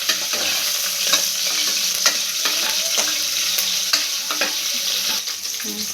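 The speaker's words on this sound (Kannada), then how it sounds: "ಈರುಳ್ಳಿ ಬ್ರೌನ್ ಕಲರ್ ಬರೋ ತನಕ, ಸ್ವಲ್ಪ ಫ್ರೈ ಆಗೋ ತನಕ ಫ್ರೈ ಮಾಡ್ಕೊಳ್ಬೇಕು." Onions and curry leaves sizzle in hot oil in a pan for sprouted-gram sambar, a steady bright crackle with repeated scraping stirs of a spoon throughout, close and fairly loud with no talking.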